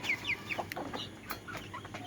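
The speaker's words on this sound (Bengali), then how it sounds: "এই যে আমার মুরগি" Backyard chickens cluck close by at feeding time, several short, overlapping clucks and squawks across the whole clip, with no talking.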